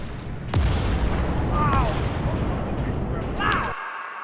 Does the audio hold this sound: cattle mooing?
no